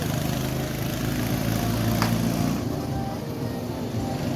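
Children's ride-on cars drive around an amusement play area, giving a steady, close motor hum with a low engine-like rumble that holds level throughout, with no clear speech over it.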